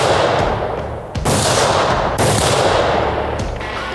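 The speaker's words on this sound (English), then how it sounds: "We had Madison take a few practice shots with my Browning X-Bolt 270 short mag" A Browning X-Bolt 270 short mag rifle fitted with a muzzle brake fires in the field, very loud sharp reports with long booming decay, several blasts in quick succession filling the whole stretch.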